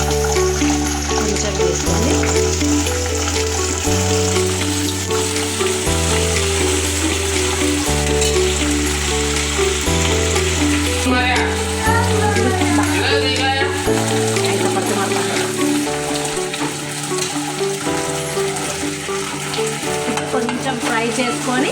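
Tomato and soy sauces for chicken 65 sizzle and bubble in a pan as they are stirred, a steady frying hiss running under loud background music.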